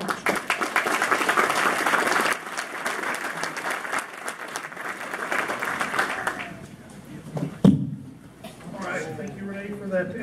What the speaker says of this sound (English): Would you all give him a round of applause?